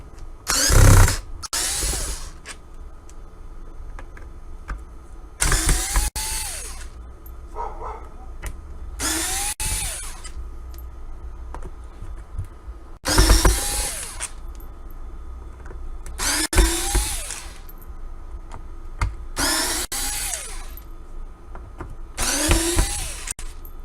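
A power tool backs out screws during a Spy 790 teardown, eight screws in all: repeated bursts of whirring, each lasting a second or two, separated by short quiet gaps, close and fairly loud.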